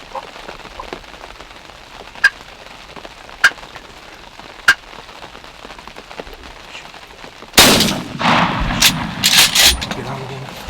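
A gunshot rings out during a youth turkey hunt in Central New York: a sudden loud blast near the end, after several sharp faint clicks, over quiet outdoor background with rustling.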